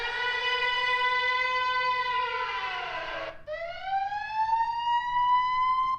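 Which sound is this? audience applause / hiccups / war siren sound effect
war siren sound effect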